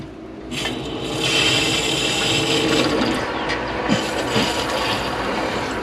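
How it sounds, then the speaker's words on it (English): Water supply being turned back on to a home water heater after a drain valve replacement, a rushing hiss of water flowing through pipes that swells after a second and stays steady, with faint clunks near the valve. "I'm going to turn the water back on."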